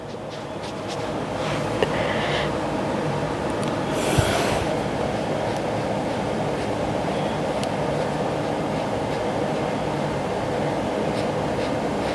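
A home air conditioning vent runs as a steady low broadband hum and hiss under the whole stretch, with faint scratches and a brief clink from nearby activity.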